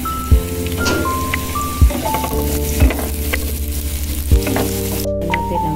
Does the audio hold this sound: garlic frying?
yes